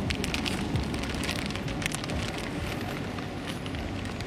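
Steady rain falling outdoors on a street during a protest day in Marseille, a dense, even hiss with soft patter, continuous and moderately loud, with no voices over it.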